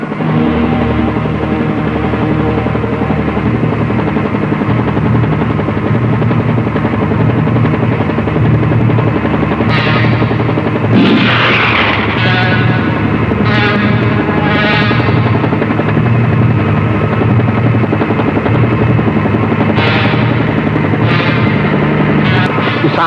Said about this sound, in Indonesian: Helikopter yang kau lihat sekarang adalah dari kami.